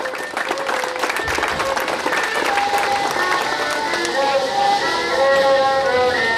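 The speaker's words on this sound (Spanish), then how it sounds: "Recibámoslos con fuertes aplausos" An audience at the Carnaval de San Juan Colorado in Oaxaca applauds a speaker, a continuous crowd clapping with cheers, while a brass-like melodic tone rises and talk carries on underneath.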